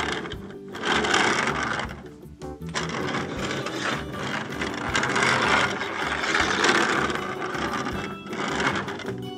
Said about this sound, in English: You can put Chase in like this and roll him around.